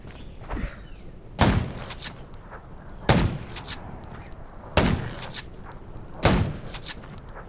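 Four loud, sharp video game gunshots ring out at regular intervals about a second and a half apart, each with a brief echoing tail over low background noise, in a zombie survival game.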